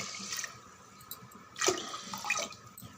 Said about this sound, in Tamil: மொத்தமாக 6 டம்ளர் தண்ணி சேர்த்துடலாம்